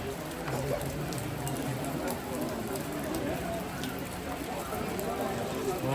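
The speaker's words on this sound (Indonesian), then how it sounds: "iya ini hujan melanda dunia ini" Heavy rain pours down during an outdoor funeral service in Suaya, Sangalla, a continuous dense hiss of drops on surfaces with faint voices beneath.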